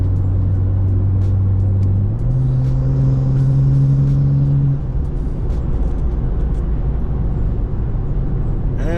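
BMW M3 engine rumbling nearby, its low tone steady then stepping up in pitch before fading as the car moves off, loud with no talk over it.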